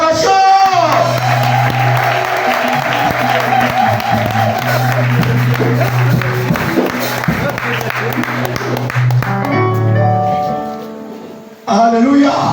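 Church congregation at an Assemblies of God gathering applauds and cheers as their general secretary comes up to an outdoor podium, loud sustained clapping and shouts over music that fade toward the end.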